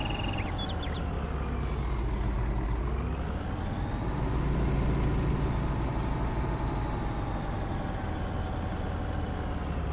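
A truck backs up to a chicken feed area in Farming Simulator 19, its engine rumbling loudly and continuously, with a brief air-brake hiss early on and no talk over it.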